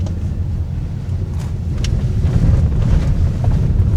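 A Chinese car overtakes on a narrow, winding mountain road between Vang Vieng and Luang Prabang in Laos. A steady low engine and road rumble mixes with wind buffeting and swells slightly louder toward the end.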